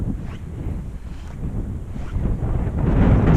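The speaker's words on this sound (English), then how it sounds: "This wind is definitely a nightmare today" Strong wind buffets the microphone at a trout fishery, loud low rumbling gusts that swell and build toward the end, with no talking.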